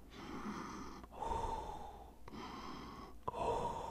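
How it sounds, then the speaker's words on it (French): Close, heavy breaths blown straight into a microphone: four long, rasping strokes in a slow, even rhythm, loud and airy, with no voices. "Il s'empara du microphone et commença à respirer dedans."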